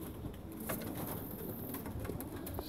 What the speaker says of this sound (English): Leo, number one in racing pigeon in Canada.